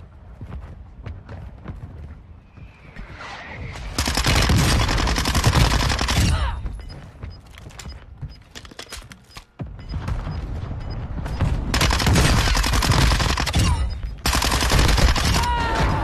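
Minibak SMG fire in Warzone 2.0, loud sustained bursts of rapid automatic shots broken by quieter gaps with footsteps and mechanical clicks, little talk.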